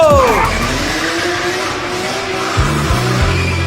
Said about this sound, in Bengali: বাইক রেস করে জিততেই হইব, পুরো খাড়া টান দিতে হইব